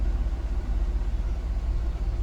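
A 2007 GMC Yukon XL with the 5.3 engine, still warming up, runs at a steady idle: a low, even rumble with no other sounds.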